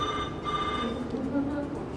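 A mobile phone rings during a studio interview, a steady tonal ringtone running under low voices.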